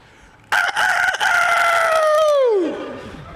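A rooster crows once, loud and close, its long falling call breaking off at the end and standing alone without talk.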